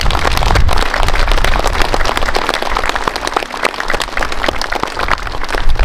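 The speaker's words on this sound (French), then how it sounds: "je pense qu'on peut les applaudir aussi" An outdoor crowd at a May 8 ceremony in Brumath applauds the firefighters, dense, steady clapping filling the whole stretch at close range.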